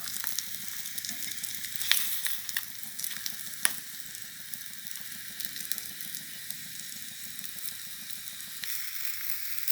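German sausages frying in a pan of hot oil, a continuous bright sizzle with scattered pops and crackles, steady and close throughout with no talking.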